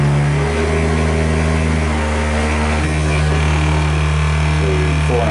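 Steady electric motor whine holding a high, even pitch with a constant hum underneath, running loud and close throughout, driven by a speed controller at 4500 rpm and 98% pulse width modulation.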